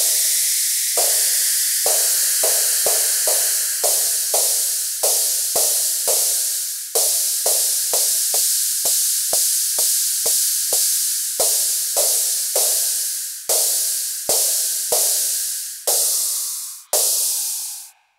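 Modor DR-2 drum machine crash cymbal struck again and again in a sequenced pattern, each hit a bright, hissy wash decaying quickly before the next, roughly two dozen hits at an uneven but steady pace, close and loud with no talking.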